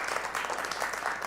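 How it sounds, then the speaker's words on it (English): An in-person audience at a science café talk on mass spectrometry gives a brief, quiet round of applause, a soft patter of many hands with no talk over it. "I'd like a quick round of applause."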